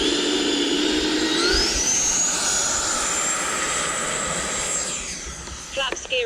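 A radio-controlled model jet fitted with a KM Model afterburner screams past, a loud sustained jet whine with a rising pitch sweep that gradually fades as it moves away.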